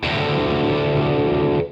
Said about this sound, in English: it's like a power chord on the E.